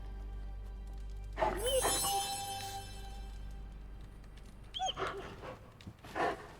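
A dog whimpers in a few short, high, whiny bursts and pants softly in between, close by, over a low steady background hum.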